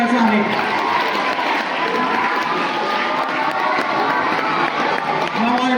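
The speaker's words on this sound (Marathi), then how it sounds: "सर्वांनी टाळ्या वाजवून त्यांचं स्वागत करायचं आहे" Crowd at a school prize-giving event clapping and cheering as guests arrive on stage, a dense steady wash of applause and voices with children shouting amid it.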